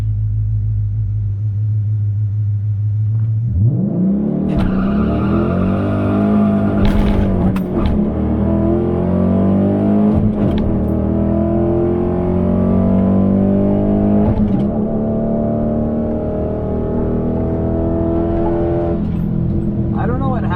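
A modified Dodge Charger R/T with an aggressive cam launching hard at a drag strip, idle rumble bursting into a loud roaring rev that climbs through gears, heard close from inside with talking throughout.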